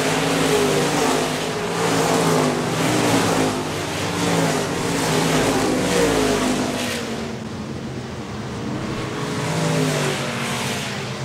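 Stock cars racing nose to tail at Park Jefferson Speedway, a loud, layered roar of several engines that swells and fades as the pack circulates, with no voices.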